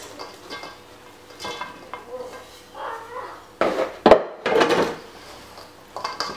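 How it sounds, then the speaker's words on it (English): A utensil stirring turkey stuffing of chopped bread, dried apricots and cranberries in a bowl, with intermittent scraping, squelching and clattering pushes that grow louder toward the end, heard without talk. "I'm going to mix that in together with some of these chopped apricots, cranberries."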